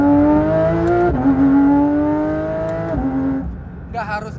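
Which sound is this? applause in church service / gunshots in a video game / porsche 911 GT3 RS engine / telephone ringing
porsche 911 GT3 RS engine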